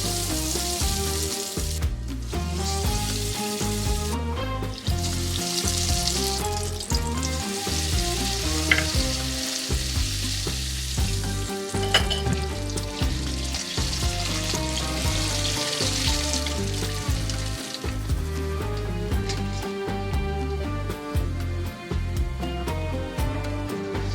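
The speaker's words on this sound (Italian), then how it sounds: "E allora andiamo a mettere i nostri falafel." Falafel frying in hot oil, a dense, continuous sizzle and bubbling that holds steady and close throughout, with a rhythmic underlying pattern that suggests background music, and no talking.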